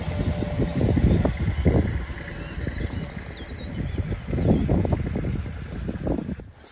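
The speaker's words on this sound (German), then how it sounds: "Ja, er kommt mit dem Traktor." A farm tractor rumbles past in a forest setting, its low engine chugging rising and falling as it approaches and moves by at moderate distance, with no talking.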